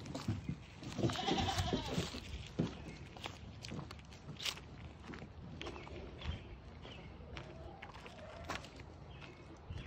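Goats in a pen fitted with a play slide bleat a few times at close range, mixed with footsteps and shuffling movement, with light talk now and then.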